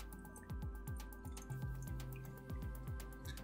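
Old Fanta Apple soda is poured into a glass, giving a close, quiet run of rapid dripping and glugging liquid sounds with faint fizz, and no voices.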